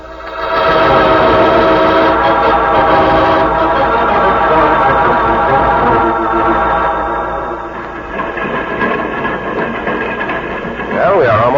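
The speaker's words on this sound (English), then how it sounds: "Train is slowing down so that we can jump off." A train rumbles along with rhythmic clanking and a sustained horn-like tone, then the sound eases and shifts as it slows down, with voices talking over it.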